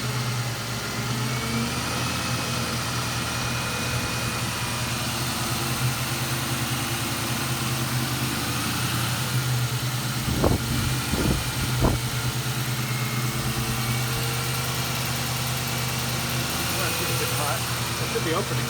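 A 2000 Ford Mustang GT idles steadily up close during repairs, its engine note briefly bumped up with a few short revs midway, while people talk nearby.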